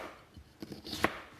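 A knife chops food on a board in a few quick, close strikes, one sharp loud cut standing out near the end, with no talk over it.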